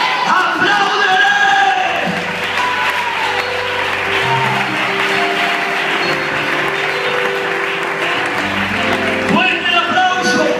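Loud, sustained applause from a congregation at a Spanish-language sermon fills the whole stretch, a dense roar of clapping and crowd noise with voices mixed in.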